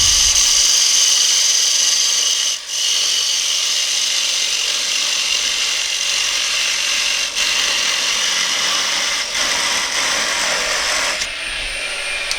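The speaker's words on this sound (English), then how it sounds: "I have a parting tool. I'm just going to say about there, part in." A parting tool cuts into a spinning wooden bud vase on a lathe, a loud continuous close-up scraping hiss with brief dips where the cut lightens, no speech.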